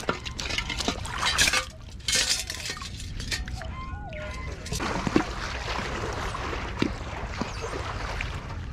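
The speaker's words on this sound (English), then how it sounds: "Oh, this water's going over top of my suit." Shoreline water splashes and gurgles close by, pouring over the top of a wading suit, with irregular sloshing and a few faint clinks, continuing without speech.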